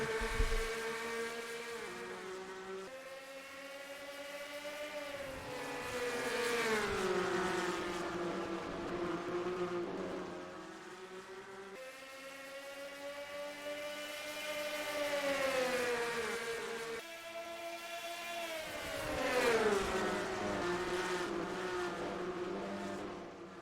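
Stock cars race at Chicago in a NASCAR-style video game, a continuous pack of engines droning and rising and falling in pitch as the cars accelerate and pass, loud and steady with no speech.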